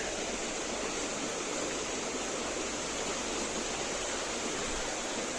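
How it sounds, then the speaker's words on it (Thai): Steady, loud rush of a waterfall and flowing stream at the Tin Tok Royal Project, heard from a footbridge, a dense continuous roar with no pauses. "ได้ยินเสียงน้ำตกไหมคะ"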